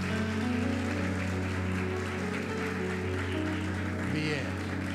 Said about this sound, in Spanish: les recibimos con un aplauso de